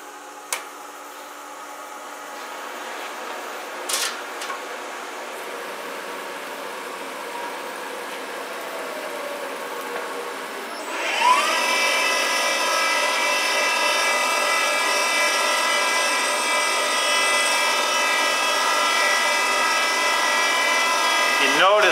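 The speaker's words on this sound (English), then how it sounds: "we're going to turn the machine on here, and we're going to actually show the machine work" A porting machine cuts a port in a Mazda Renesis rotary engine housing. After a quiet, low hum it starts up partway through and settles into a loud, steady, high-pitched tonal whine that holds to the end.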